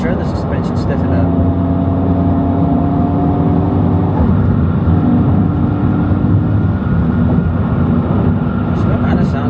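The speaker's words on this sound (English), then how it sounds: "I was trying to see if in R mode the fake sound comes more into play." Honda Civic Type R FL5 with a manual gearbox, cruising on a highway in R mode: a steady, loud engine and road drone with a constant low hum runs unbroken throughout.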